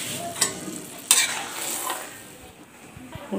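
Tomatoes go into a pan of frying spiced masala, bringing a bright sizzle burst and clinks of a utensil on the pan, then the hiss settles lower; no voices.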